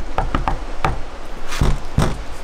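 Someone knocks on a house door: three quick raps, a single knock, then two louder, heavier knocks, all close by with no talking.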